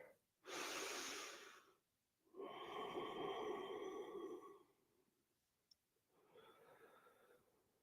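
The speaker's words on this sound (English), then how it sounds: "5 breaths." Slow, deep yoga breathing close to the mic, long airy inhales and exhales lasting a couple of seconds each, separated by quiet pauses, soft and unhurried.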